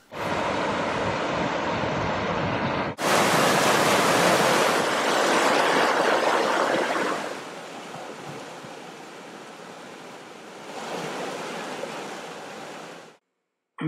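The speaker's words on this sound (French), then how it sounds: "Profitons un instant du bourdonnement des cascades de Rivotte." The Rivotte waterfalls in the Orbieu valley of the Corbières rush in a steady, loud roar of falling water, abruptly cut and resumed, easing and swelling again before ending, with no talking.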